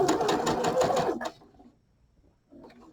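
A sewing machine stitches a quilt seam with a rapid, steady run of needle strokes for about a second, then stops abruptly, leaving near silence before a faint rustle at the end.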